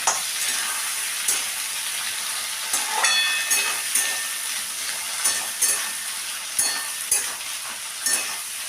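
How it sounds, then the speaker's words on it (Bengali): Kundru (ivy gourd) pieces fry with dried and green chillies in hot oil, a steady bright sizzle broken by repeated scraping stirs of a spatula against the pan, close and fairly loud throughout. "এগুলোকে আমি একটু লাল লাল করে ভাজা করে নেব"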